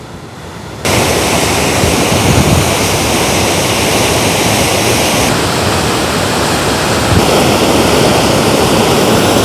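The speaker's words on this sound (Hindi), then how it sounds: "ये वो पानी है जो आबशार का हिस्सा बन रहा है। बड़ी ठंडी और तेज़ हवा चल रही है" Sadhery waterfall in Samahni gives a loud, constant roar of rushing water, mixed with cold, strong wind buffeting the microphone, unbroken throughout with no one speaking.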